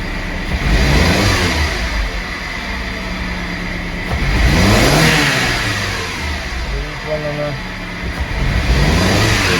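VW Golf IV engine with a faulty ignition coil and lacking pull, running and revving in several swells close by, loud and steady, with someone speaking over it.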